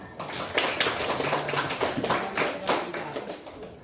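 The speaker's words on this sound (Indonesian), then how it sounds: "tepuk tangan untuk kita" A classroom group claps hands briskly and unevenly for several seconds, a steady patter of applause in a room.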